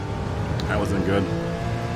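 A race car engine in Gran Turismo 7 on PS4 Pro revs down a straightaway, its pitch climbing and dropping through a rough series of gear shifts over a steady engine drone.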